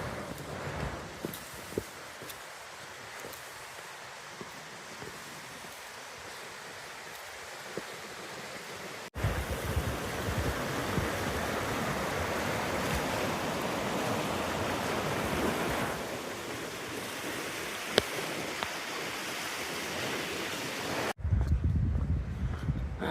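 Clear stream water in the freezing Peak District rushes past stepping stones, a steady broadband wash of flowing water with gusts of wind on the microphone and a few faint knocks, heard alone without talking.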